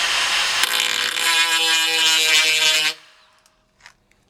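A DeWalt DCG426 die grinder runs at its first speed against soft 2mm steel, a loud, close, sustained high whine lasting about three seconds before cutting off, followed by a faint brief knock.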